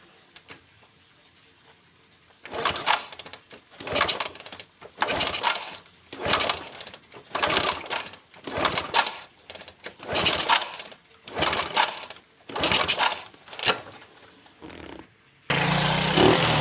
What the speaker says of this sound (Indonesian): Saya ingin melihat suara mesin ini setelah selesai pembongkaran dan pemasangan.